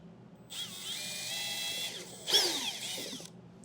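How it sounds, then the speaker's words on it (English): A small power drill with a small bit whirs steadily for a few seconds drilling a pilot hole, pitch shifting as it bites into material, then spins down; no talking. "I have a small drill bit just to drill a pilot hole right in the center of my mark."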